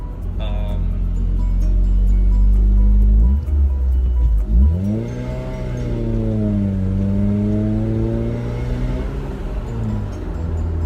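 A car bought for about $1,000 drives along, its engine loud and close as it holds a steady drone, then drops and revs up again through a gear change, pitch climbing and settling.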